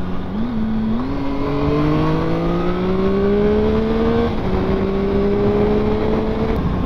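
A Triumph Speed Triple 1050 motorcycle accelerates hard through the gears. The engine note climbs steadily, drops briefly at a shift, then keeps rising, loud and close throughout with no talking.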